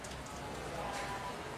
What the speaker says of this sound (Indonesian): karena di luar hujan